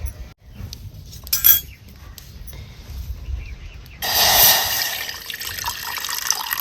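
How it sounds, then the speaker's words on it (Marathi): Water gushes into a pot while making kadha, a clear running splash that starts suddenly partway through, preceded by a few faint clinks of utensils. "तर आता ह्याच्यात मी घालते पाणी"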